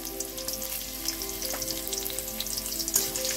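Chopped garlic and round-sliced onion fry in soybean oil, giving a steady, dense close sizzle with light crackles and a faint hum underneath, no voices.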